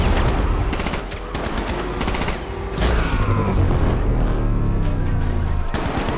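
Dense automatic gunfire rattles through a Batman: Arkham Knight battle, loud rapid bursts layered with a rumbling vehicle engine and whooshing passes, continuous and close throughout.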